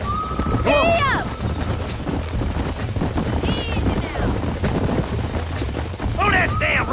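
A horse gallops in Red Dead Redemption with a steady rumble of hooves, while people shout over it and a horse whinnies in short bursts.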